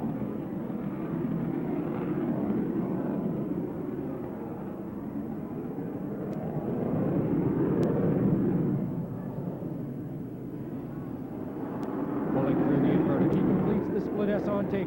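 Aerobatic plane performing a vertical climb and roll at the 1992 Commanders Day airshow at Grissom AFB, a loud sustained engine roar that swells and fades as it passes, with a broad rumble throughout and speech over it.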